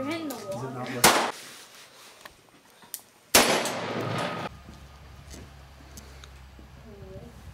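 Two sharp pistol shots ring out at a shooting range, a few seconds apart, loud and echoing against quieter background sound, with voices talking around them.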